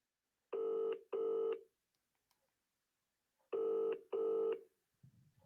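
Telephone call ringing out, two pairs of loud double ring tones separated by a silent gap, then a faint low sound at the end.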